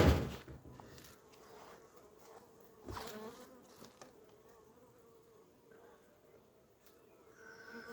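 A faint, steady hum of honeybees buzzing at a hive, with occasional soft knocks and rustles nearby.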